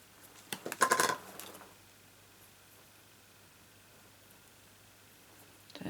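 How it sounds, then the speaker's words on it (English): Scissors snip through narrow 1/8-inch white ribbon in a quick, close burst of metallic clicks, followed by quiet room noise. "Scissors."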